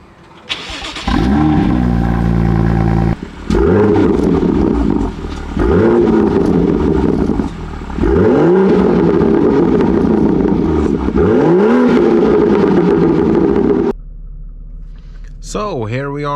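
A manual car accelerates hard on a test drive. Its engine revs repeatedly through rising gear pulls, with short drops between shifts, loud and close from inside the cabin, before settling at the end.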